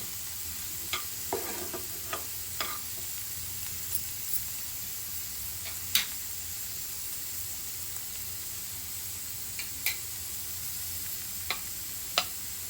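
Quiet stirring of salt into paneer bhurji in a pan, with a faint steady sizzle underneath and occasional sharp clicks of a spoon against the pan, spaced irregularly.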